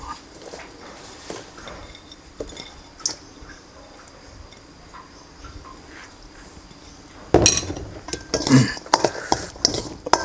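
Utensils stirring canned-fish larb in a bowl, starting quiet with sparse clinks and then turning into a busy run of scraping and clattering near the end.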